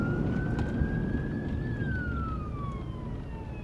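A wailing siren rises and then falls in pitch as a fire truck passes, over a loud rumble of traffic and engine noise.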